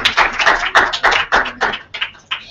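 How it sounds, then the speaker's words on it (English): Claps ringing out at a debate final as the audience greets the finalists: a sparse, uneven run of distinct, loud claps that thins and fades toward the end. "Can we have a round of applause for our finalists?"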